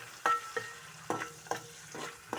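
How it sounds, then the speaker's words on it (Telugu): Onions stirred and fried in a pan, with a soft continuous sizzle broken by about six regular scraping strokes of the spatula, close but quiet, with no talk. "ఆనియన్స్ చక్కగా తిప్పేసుకుందాం"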